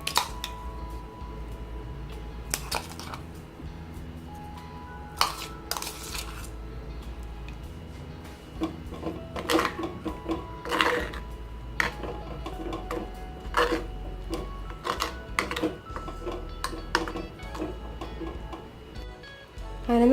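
Ground paste being stirred into cooked mango for Kerala-style mango pachadi, giving soft, wet squishing and scraping with scattered light clinks of a spoon against the pan, fairly quiet and steady with no talk.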